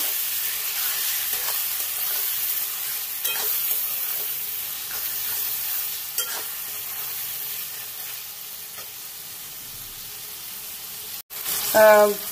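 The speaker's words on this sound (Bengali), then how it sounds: "এবার এটাকে খুব ভালো করে মশলাটা কষাবো" Chopped tomato and masala for crab curry sauté in a pan, giving a steady soft sizzle with occasional stirring scrapes, and a short burst of another sound at the very end.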